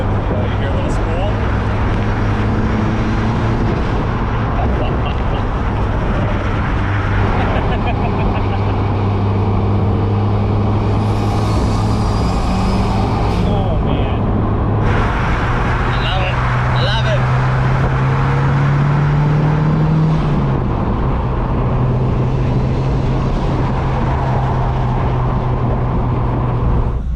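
A turbocharged Mazda Miata engine drones steadily, with a rising whistling spool building partway through, heard up close under ongoing talk.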